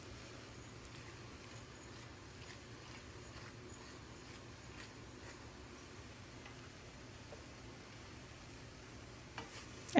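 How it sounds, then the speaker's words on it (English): Vegetables frying in a pan make a steady, low sizzle under faint stirring scrapes for ten seconds, ending with a short louder clatter. "And stir it one more time."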